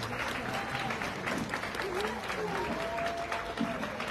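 Sustained applause from a crowd at a pageant crowning event in Tempoal, somewhat distant, with voices and cheering mixed into the clapping.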